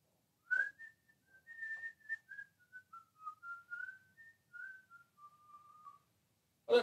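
A person whistles a wandering, tuneful melody of many short and sustained notes, clear and close, alone with no talk, in a luthier's workshop where custom guitars are built.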